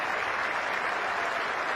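Sustained applause from a big cricket crowd at Lord's, thick and even, with no break in the clapping.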